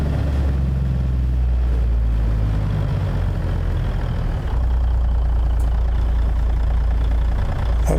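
A Ruda 379 truck with an N14 engine idling in American Truck Simulator, a deep steady low rumble with a throbbing undertone, close and continuous, with no voices.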